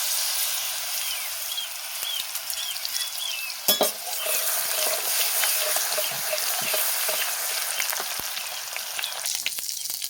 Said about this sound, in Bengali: রসুনটাকে লাল লাল করে ভেজে নিয়েছি।